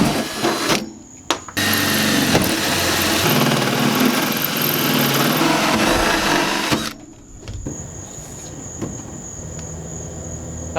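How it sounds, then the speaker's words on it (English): A power drill whirs loudly and steadily for several seconds while boring holes in a school bus to install a tankless propane water heater, then drops to a quieter high-pitched motor whine. "I'm like nervous about drilling these holes"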